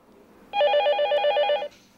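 A telephone rings once at a police station's violent crimes team office, a single loud electronic trill lasting about a second with rapid pulsing, alone against a quiet room.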